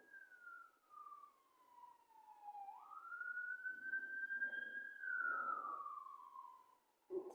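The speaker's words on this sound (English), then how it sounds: "the ambulance just went down my road" Ambulance siren passing down a residential road, a single long wailing tone that falls, rises and then falls again, faint and distant against quiet surroundings.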